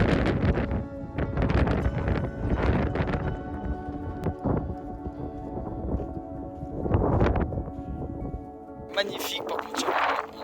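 Icy wind buffeting the microphone at a 360-degree scenic viewpoint on Réunion island, loud rumbling gusts throughout with a voice talking under the noise.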